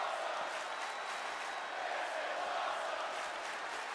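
A big arena crowd in the WWE 2K22 wrestling video game roars continuously, a dense, steady wash of cheering and shouting that stays loud throughout without a break.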